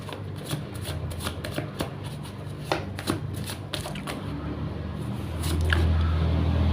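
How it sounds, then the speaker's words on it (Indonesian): Tarot cards being shuffled by hand, a steady run of soft riffling flicks and slaps close up, with a low hum underneath that grows slightly louder near the end. "Langsung saja saya shuffle kartunya."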